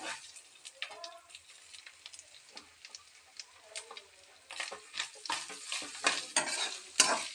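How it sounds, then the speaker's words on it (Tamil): Grated coconut dry roasted in a pan for Chettinad-style mutton gravy: repeated scraping strokes of a spatula with a soft crackle underneath, growing busier and louder toward the end, close and without speech. "ரொம்ப வறுக்க வேணாம், சும்மா அந்த தேங்காயில் இருக்க ஈரப்பதம் போனால் போதும்"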